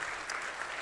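An audience at a lunch event with a keynote speaker claps in a brief, dense burst of applause that fills the room without pause.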